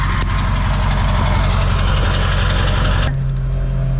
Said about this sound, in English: the exhaust note sounds pretty good.